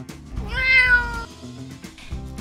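A pet cat meows once, a drawn-out rising and falling cry close up, followed by faint softer sounds.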